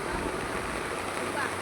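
A river swollen after heavy rain rushes in full flood, a steady broadband roar of water that holds evenly from start to end with no breaks.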